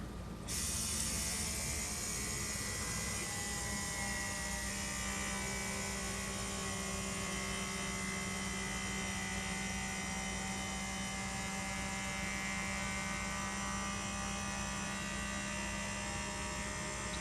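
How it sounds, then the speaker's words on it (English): An electric vacuum pump draws air out of a jar of dehydrated cherry tomatoes, giving a steady, loud mechanical hum with a low mains-like drone that runs unbroken and alone. "waiting to hear the change of sound once all the air has been taken out of the jar"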